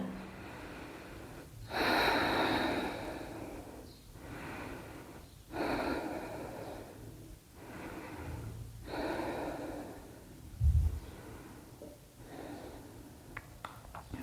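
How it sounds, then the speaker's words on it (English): Slow, deep breathing during a beginner hatha yoga session, several long audible inhales and exhales in a steady rhythm, close and clear with no talking. "Take your 5 deep breaths here."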